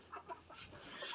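A chicken clucks a few short times, close and fairly soft, with quiet surroundings.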